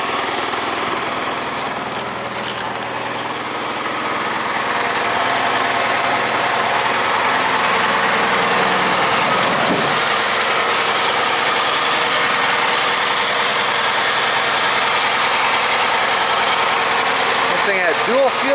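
A Wisconsin engine on a Bolens GroundsKeeper idles steadily after a cold start, a continuous close mechanical drone with a voice speaking over it.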